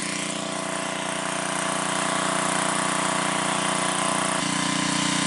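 A small engine-driven trash pump runs continuously while draining a swamp, a steady droning hum with a constant buzzy whine, close and unchanging.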